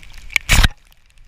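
A short splash of waist-deep floodwater, one brief slosh with a faint slap just before it, close by and then fading to quiet, on a flooded Manila street amid strong wind and rain.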